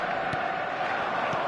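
A capacity stadium crowd in an eFootball match roars in a steady, dense wall of cheering and chanting, close and loud throughout with no distinct voices on top.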